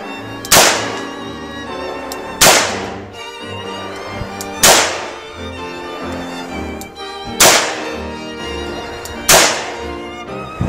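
Five loud, sharp revolver shots fired in single-action mode on an outdoor range, spaced roughly two seconds apart, each with a sharp crack and a short, ringing decay.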